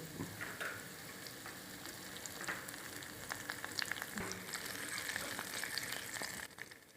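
Garlic and curry leaves frying in hot oil with spluttering mustard seeds, a steady sizzle dotted with frequent sharp crackles and pops, fairly close but moderately quiet.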